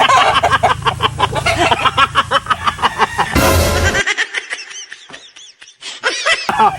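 Chickens and roosters in a cockfighting setting give short clucks and squawks amid laughter and chatter, then a sharp burst of noise before quieter, scattered calls.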